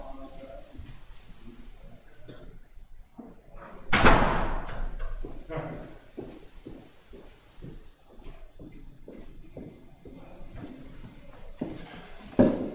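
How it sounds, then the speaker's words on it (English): A door in a classroom swings shut with one loud thud, followed by scattered knocks and movement noises. A person talks faintly before and after. "let me go close that door"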